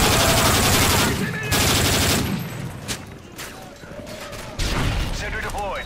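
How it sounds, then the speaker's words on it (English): Heavy automatic gunfire and bursts in Modern Warfare 3 Survival Mode around a deployed sentry gun, loud dense volleys with short pauses, booms and mechanical clatter mixed in, with voices talking over the shooting. "Sentry is taking heavy fire."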